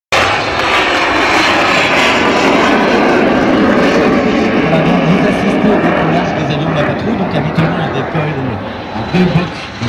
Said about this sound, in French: Et c'est pourquoi la patrouille décolle séparément